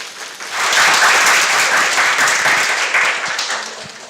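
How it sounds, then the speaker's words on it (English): A biotechnology conference audience applauds after a lecture on avian research, the clapping swelling quickly into a full, even burst, holding steady, then tapering off near the end. "please give Dr. Asmoro a big applause"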